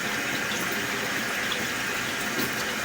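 Water flows steadily through a sewer pipe, a continuous broadband rush with a mild hollow tone, constant in level and heard alone without talk.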